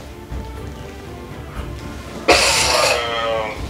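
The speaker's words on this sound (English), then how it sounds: "I got a bit of a cough. You know, I'm coughing." A person's cough, a single harsh broadband burst that rings on for about a second, close and fairly loud after a stretch of quiet room noise.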